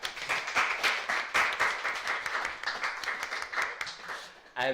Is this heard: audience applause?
yes